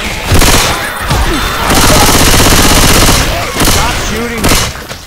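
Rapid gunfire from a Left 4 Dead 2 firefight, loud bursts and sustained automatic shooting mixed with players talking over voice chat and game effects.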